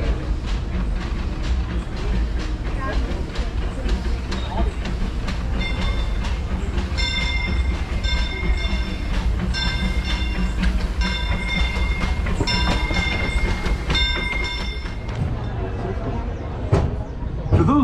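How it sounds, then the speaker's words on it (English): Disneyland Railroad train ride heard from aboard, with a steady rumbling roll and rhythmic clatter of the cars throughout, a bell-like tonal ringing mid-ride, and a voice talking over the noise. "welcome aboard the Disneyland Railroad"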